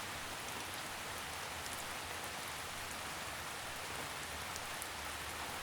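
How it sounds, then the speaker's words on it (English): Gentle drizzle patters steadily as a soft, even hiss of fine raindrops tapping a surface, continuous and calm with no voices. "Imagine the rain lightly tapping your toes, soft and rhythmic."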